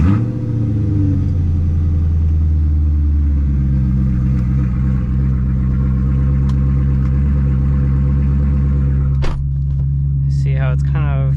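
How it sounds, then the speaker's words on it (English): A BMW E92 M3 engine fires from a cold start and settles into a steady, deep idle, humming close and loud with a slight bounce, and a brief click toward the end. "so let's do a cold start"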